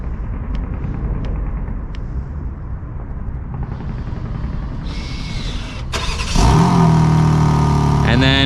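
A 2023 BMW M4 Competition xDrive Coupe is started remotely, with a few faint clicks giving way to the starter whir and then a loud engine catch that settles into a deep, steady idle, close by.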